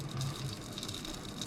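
Cold water gushes steadily over chicken feet being prepared for dim sum, a continuous splashing pour close by with no talk.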